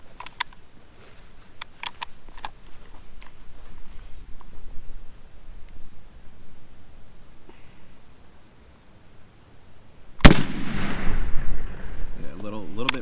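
A shotgun goes off once, loud and close, during a youth turkey hunt, a sharp blast that rings and fades after a stretch of quiet rustling and faint movement.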